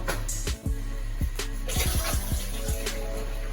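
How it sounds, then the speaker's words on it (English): Tap water runs steadily over potatoes being rinsed in a kitchen while cooking crawfish mashed potatoes, a continuous close splashing wash with intermittent knocks and clunks of handling. "Rinse your potatoes."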